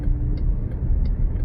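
Low, steady engine rumble and road noise heard from inside a 2020 Chrysler Pacifica minivan with a 3.6 liter engine cruising at a constant speed, with no talking.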